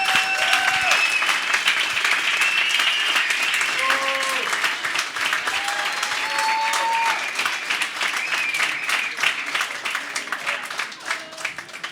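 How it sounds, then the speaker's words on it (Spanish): Loud, sustained applause from the audience at a beer-talk event honouring a Spanish guest, dense clapping filling all twelve seconds with voices and cheers mixed in. "Un aplauso tan fuerte que incluso pongan en riesgo sus manos, como que sus manos les duelan"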